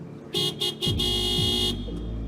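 A car horn honking in a street, a few short sharp toots then one long sustained blast, loud and close, with engine rumble beneath and no talking.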